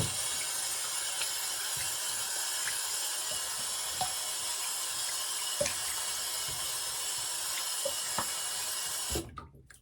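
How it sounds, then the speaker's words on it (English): Tap water running steadily into a sink to rinse a shaving brush, a constant hiss with small splashes and clinks, close, stopping abruptly at the end. "do a little warm water followed by some cold water"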